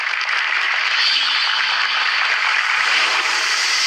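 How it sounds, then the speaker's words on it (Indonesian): Audience applause for Kausar Semarang, the second contestant at the Hafizh Indonesia 2023 Quran memorization competition, a dense steady wash of clapping that holds evenly loud from start to finish with no voices over it. "Boleh tepuk tangan yang meriah lagi untuk Kausar Semarang, peserta kedua kita"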